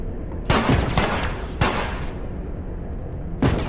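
Three heavy gunshots from a powerful gun in The Last of Us video game boom out at irregular intervals, each leaving a short rumbling tail.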